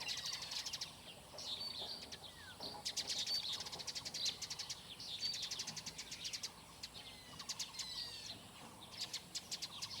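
Outdoors, a black-naped oriole sings in repeated bursts of bright, trilling calls, faint and somewhat distant, over a soft background of insect buzz.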